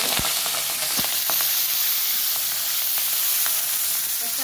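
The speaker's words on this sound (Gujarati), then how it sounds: "ધોયેલા હતા એટલે તેલમાં પડવાથી થોડો તકડવાનો અવાજ આવે" Washed curry leaves hit hot oil with cumin and a pinch of asafoetida over a low flame, giving a loud, continuous frying sizzle close by, broken by a handful of sharp crackling pops.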